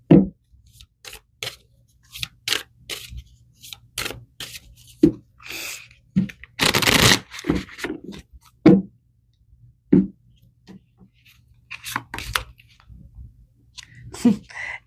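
Tarot cards are shuffled and handled at close range, producing irregular bursts of crisp riffling and slapping sounds separated by short quiet gaps, with no talking.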